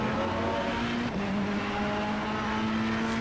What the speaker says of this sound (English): You can hear the other car in McLaren.